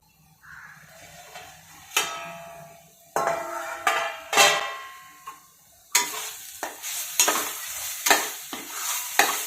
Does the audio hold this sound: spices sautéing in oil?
yes